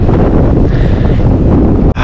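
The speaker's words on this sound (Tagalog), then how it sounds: "Hangin." Strong gusts of wind buffet the microphone during a long-distance cycling ride in Ireland, a loud, rumbling roar that cuts off abruptly near the end.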